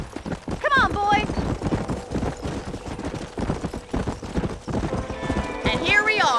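Several horses gallop in Red Dead Redemption, their hooves clattering in a fast, close clip-clop while a horse whinnies near the start and end, with someone talking over the ride.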